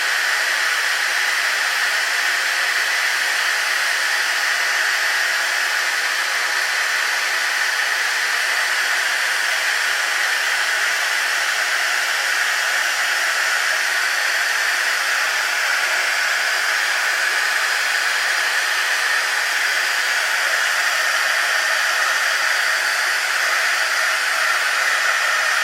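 A heat tool blows continuously while heat embossing a stamped card, a steady airy hiss and fan whir lasting the whole stretch without pause or talk.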